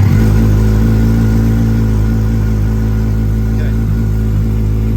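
A Kawasaki motorcycle engine fires up and settles into a loud, steady close-up running note with a strong low drone, its revs holding fairly constant throughout.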